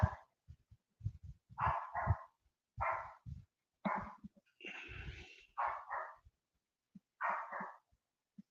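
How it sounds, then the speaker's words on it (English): A dog barks at something indoors, a series of short, fairly quiet barks in irregular pairs and clusters with pauses between, heard from some distance. "My dog's barking at something."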